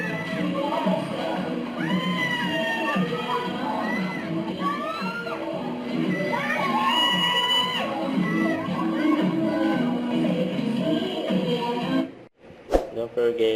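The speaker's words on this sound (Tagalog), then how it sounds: "May sigawan pa nga dyan." A live audience shouts and cheers during a performance, a loud mix of high excited screams and crowd noise that holds steady before cutting off abruptly near the end.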